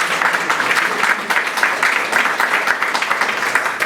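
Loud, close applause from guests at an anniversary ceremony held at a departmental club, with dense, continuous clapping throughout and no letup.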